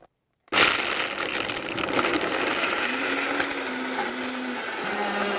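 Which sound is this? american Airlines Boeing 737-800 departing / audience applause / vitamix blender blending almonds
vitamix blender blending almonds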